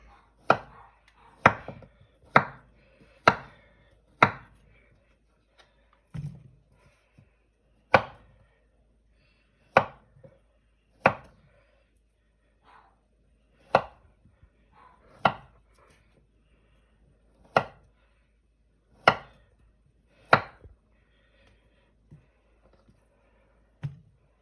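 A knife cuts kielbasa sausage on a board in about twenty sharp, separate chops, each a crisp close knock spaced a second or two apart, with quiet gaps between and no talking.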